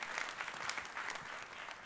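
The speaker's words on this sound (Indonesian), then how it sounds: "Tepuk tangannya yang paling meriah buat Tuhan kita" A congregation claps enthusiastically during a church sermon, a brief, dense wash of applause that stays even and moderately loud throughout, with no voices on top.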